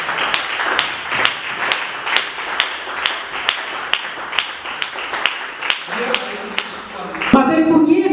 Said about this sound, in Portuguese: Podemos aplaudir por 30 anos.